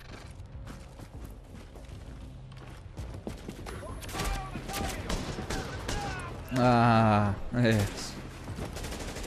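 Automated turrets in The Division rattle off bursts of gunfire alongside mechanical clanks, building to loud rapid volleys near the end, with voices talking over the action.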